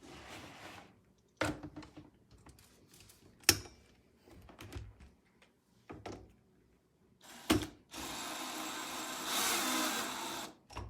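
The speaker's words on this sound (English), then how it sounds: "And then drill" A power drill driving into the frame of a plastic chick brooder, with short bursts of whirring between clicks and handling noises, ending in a longer sustained drilling run up close.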